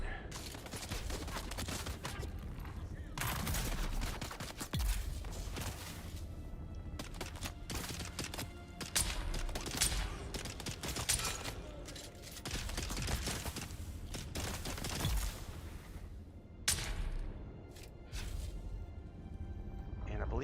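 Gunfire in the video game Dune: Awakening, bursts of rapid shots and fusillades scattered across the scene, with someone talking over much of the action.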